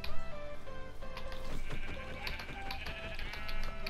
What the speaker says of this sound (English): Alright, that's another sheep.